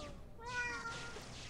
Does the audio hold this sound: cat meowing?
yes